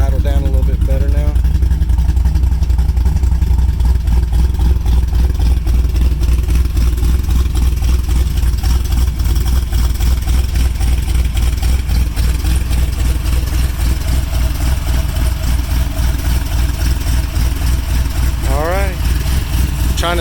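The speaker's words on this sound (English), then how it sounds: "it's starting to idle down a little bit better now" A car engine fitted with Holley Sniper fuel injection idles loudly and close, a heavy rumbling drone with steady clatter that settles slightly over time, with a person talking over it.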